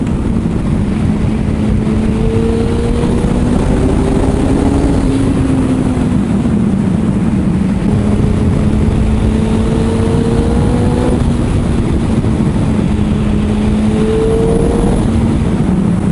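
A Suzuki Hayabusa motorcycle accelerates hard on a quiet road, its engine a loud, continuous roar whose pitch climbs steadily and resets through gear changes, with constant wind rush throughout.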